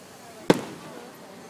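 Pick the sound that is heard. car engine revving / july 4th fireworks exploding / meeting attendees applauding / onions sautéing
july 4th fireworks exploding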